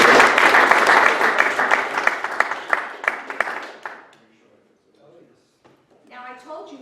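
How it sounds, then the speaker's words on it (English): Audience applause at a public meeting: loud, dense clapping that tapers off over about four seconds, followed by a pause and then a speaking voice. "So we give them a big round of applause because they're very helpful."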